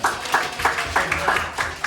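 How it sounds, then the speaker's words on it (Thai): Classmates clap their hands together in a classroom, a short burst of brisk, uneven clapping from a small group, close by and steady for about two seconds. "ปรบมือเพื่อน"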